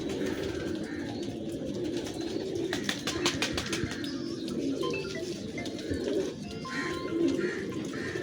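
Pigeons in a breeding setup coo repeatedly in low, throaty rolls, several birds overlapping close by, with occasional rustles and clicks in the loft.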